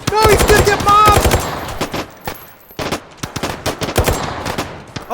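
Gunfire in the H3VR video game during a nighttime breaching fight, with rapid bursts of automatic shots followed by scattered single cracks, loud and close, alongside shouting voices early on.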